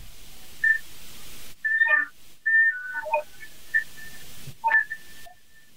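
Gentle flute whistle tones: thin, pure high notes in short separate bursts and held pitches, soft and close, with quiet breathy gaps between them.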